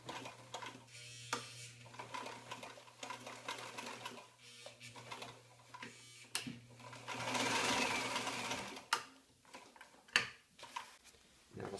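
Sewing machine stitching webbing onto a rolltop backpack, a close mechanical whir with short bursts, a sustained stretch of stitching and a few clicks of back-and-forth reinforcement.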